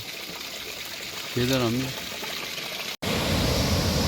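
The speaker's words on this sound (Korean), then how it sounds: "아, 물소리가 웅장하네." A small waterfall spills over rocks along the Camino de Santiago in Spain, making a steady, full rushing wash. Someone speaks briefly in the middle, over the flow.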